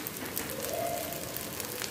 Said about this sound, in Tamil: இப்போ ஆயிலில் ஃப்ரை பண்ணிடலாம்.